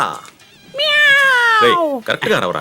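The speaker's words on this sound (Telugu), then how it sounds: "పులి ఏంటి పిల్లిలాగా అరుస్తుంది?" A long, drawn-out cat-like meow comes from what is meant to be a tiger in a Telugu comedy film scene. It is loud and wavering, with talk before and after it.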